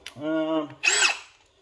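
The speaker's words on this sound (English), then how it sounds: "I need to drill it" A short whirring burst from a power drill spinning up, followed by a brief harsher grinding burst, then quiet, drilling into a car light bar.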